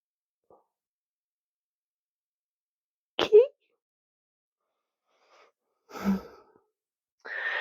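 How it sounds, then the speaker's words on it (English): Two short, snorting bursts of sharp inhaled air, separated by a few seconds of quiet, close and moderately loud, with faint breathy sounds around them. "She gets the reverse sneezes in the winter."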